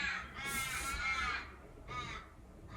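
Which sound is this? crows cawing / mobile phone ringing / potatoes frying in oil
crows cawing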